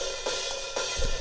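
Hi-hat track processed with EQ, a clipper and transient-smashing compression, a bright, dense and steady sizzle with a couple of accented strokes, loud and alone.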